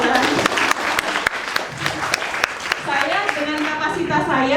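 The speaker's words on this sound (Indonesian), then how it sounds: "Tepuk tangan boleh, jangan ditahan." An audience at a high-school mathematics teaching session in Indonesia claps in scattered, sharp bursts, mixed with voices talking and murmuring.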